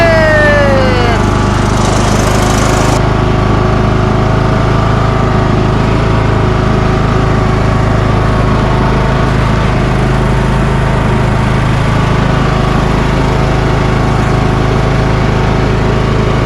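Craftsman YS4500 lawn tractor, repowered with a Kohler Courage 19HP engine, runs steadily and loud close by, a continuous low engine drone with a brief higher whine early on and no talk.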